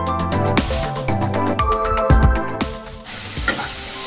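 Masala for chana masala fries in ghee, with loud rhythmic stirring and scraping strokes over a bright sizzle, which then settles into a more even hiss for the last second.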